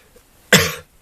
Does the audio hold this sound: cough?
yes